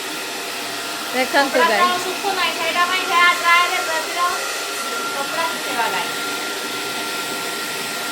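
A handheld hair dryer blows continuously as it dries clothes indoors, a steady loud whooshing whine throughout, with a person talking briefly over it.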